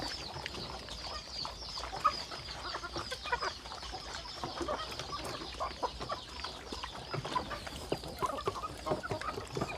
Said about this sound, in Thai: ตอนนี้ให้ปล่อยให้น้องไก่กินไปก่อน